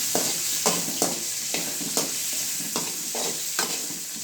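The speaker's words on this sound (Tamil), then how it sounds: "அடுத்தது தக்காளி போட்டு கொஞ்சம் லைட்டாக வதக்கணும்" Tomatoes sautéing in a pan for moong dal sambar, with a steady sizzle and a rhythmic scrape of a spoon stirring about twice a second, close and alone.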